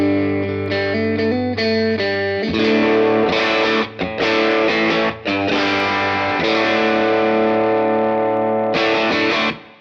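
Distorted electric guitar through a Tyler HM30 tube amp and Universal Audio Ox into an AC30 cabinet with Silver Bell speakers, miked with a Royer 121 and SM57, playing loud crunchy chords and riffs with sustained ringing notes.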